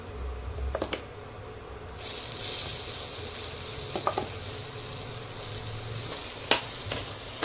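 Ground lentil paste for radhaballavi added to a spiced pan, a sizzle swelling suddenly after a quiet start and then frying on steadily, with sharp spatula taps and scrapes as it is stirred.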